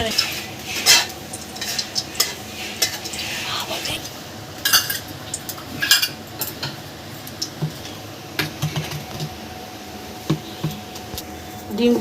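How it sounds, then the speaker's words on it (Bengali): Egg frying for egg biryani, steady sizzle with repeated clinks and scrapes of a spatula against the pan, close and moderately loud over about twelve seconds. "ভেজে নিচ্ছি"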